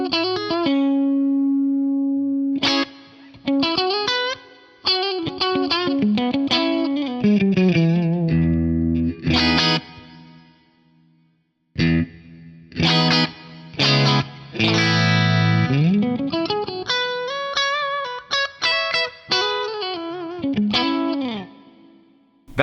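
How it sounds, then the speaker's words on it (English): Electric instrument notes ring out through a concert hall reverb drawn from a Lexicon PCM 70 impulse response library, with lush, long-decaying tails between phrases and a brief silence midway. "let's try the concert hall reverb IR"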